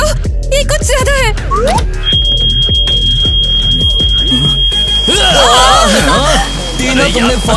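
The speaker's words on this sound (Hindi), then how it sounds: "तुमने फायर अलार्म को क्यों बजाया?" School fire alarm sounding as a steady high electronic tone under loud, excited voices and shouting, continuing for several seconds amid the commotion.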